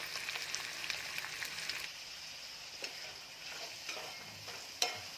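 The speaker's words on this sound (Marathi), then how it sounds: "यामध्ये मी कांदा टाकलेला आहे आता तो मी परतून घेत आहे" Onion sautéing with curry leaves in a pan for bajra bhakri chivda, a soft continuous sizzle with scraping stir strokes and occasional light clicks of the spatula, fairly quiet and close, no talk.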